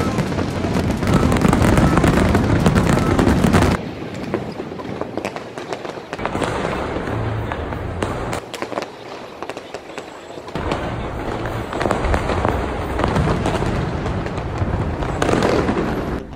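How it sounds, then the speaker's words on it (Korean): Fireworks burst and crackle continuously in dense volleys, with heavier booms coming in waves and brief quieter gaps between them. "운 좋게 불꽃놀이를 봐가지고"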